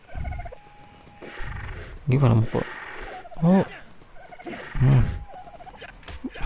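Dodo birds in Ark: Survival Evolved give three short, loud gobbling calls spaced about two to three seconds apart, heard over ongoing background game sound while someone speaks in between.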